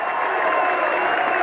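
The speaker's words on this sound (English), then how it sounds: "Gets the crowd all excited." A high school boys basketball crowd in a gym cheers and applauds after a behind-the-back pass, a dense continuous roar.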